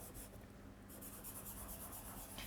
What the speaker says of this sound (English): I like to blend with my thumb in circular motions just to work the colour in.